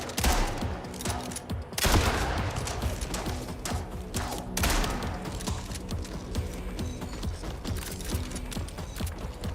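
Dense bursts of gunfire from the video game Mindseye, with sharp shots and clattering mechanical noise packed together at steady loudness and no pauses.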